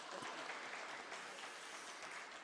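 An audience at a centenary celebration for Jillellamudi Amma claps continuously in a dense, even burst of applause heard from a distance with no one speaking.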